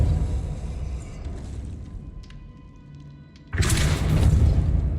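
Casting the Depulso spell in the video game Hogwarts Legacy brings a sudden whooshing burst partway through, followed by a loud, sustained rumbling blast that continues to the end over low game ambience.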